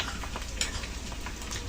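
Ginger hits a hot pan with fried fish and potatoes for a Bengali cabbage ghonto, a dense, continuous sizzle with light crackles and stirring taps, close and fairly quiet, with no voices.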